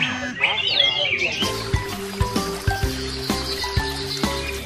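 A tame magpie-robin (murai batu) sings a long, bright run of chirps and trills in the first moments, then steadier tonal notes continue with soft rhythmic background sounds.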